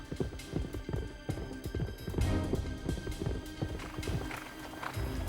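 Rapid horse hooves clip-clop on the hard ground of a deserted old airfield runway on Ua Huka as the horse runs, a steady drumming rhythm with a brief whinny-like rise among the beats.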